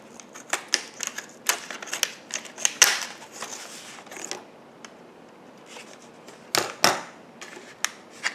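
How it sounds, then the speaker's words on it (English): Kuhn Rikon kitchen shears cut through clamshell plastic packaging, giving a series of sharp, close snips and crackling plastic snaps that come in irregular bursts with no talk. "it can cut through those types of clamshells"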